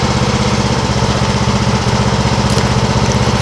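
A lawn tractor engine runs loud and steady at close range as the machine is driven down a truck ramp, a continuous throbbing drone.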